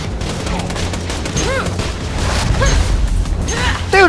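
Bursts of gunfire from the video game Borderlands 2 pop and boom repeatedly over game effects, with a voice talking over the shooting.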